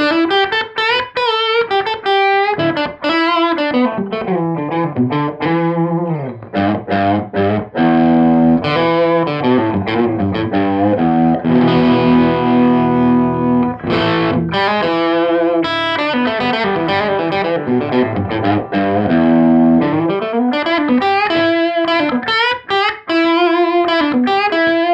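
Hagstrom Viking semi-hollow electric guitar played on its bridge pickup with distortion, loud sustained chords and single-note runs shifting through a continuous 25-second passage, no voices.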